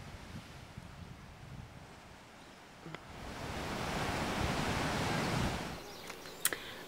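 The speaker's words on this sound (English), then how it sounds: "you can hear the waves" A soft wash of surf swells and recedes at Kealakekua Bay, Big Island, Hawaii, with a broad rushing wave building in the middle and fading, heard from a distance with some wind.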